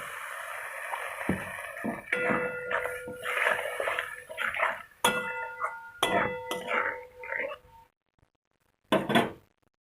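Water poured into a pan of dry ground spices sautéing for a cauliflower and prawn curry, giving bursts of sizzling and clattering of a spoon against the pan, loud and close, then a pause and a final stir.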